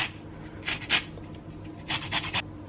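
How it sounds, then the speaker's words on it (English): An orange is rubbed across a microplane grater over a bowl, giving two clusters of short, dry rasping strokes, close and fairly soft, with quiet pauses between them and no talk. "I'm going to grate the orange zest into a bowl over here"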